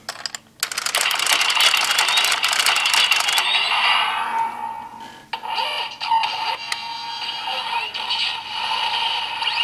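Busy electronic toy sound effects from a DX Don ZenkaiOh robot, whirring, clicking and buzzing mechanical noises that are loud and dense, shifting in tone after a short dip midway.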